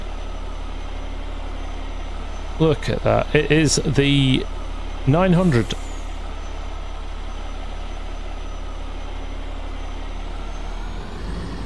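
Steady low truck engine idling with an exhaust mod in a farming sim, a continuous rumble running throughout while someone talks briefly over it.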